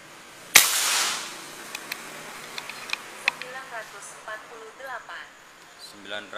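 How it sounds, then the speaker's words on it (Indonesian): A Velocity Buru Taktikal air rifle fires one sharp, close shot of a 13-grain X-Slug pellet near the start, then scattered clicks as someone talks over the quiet background. "Tembakan kelima."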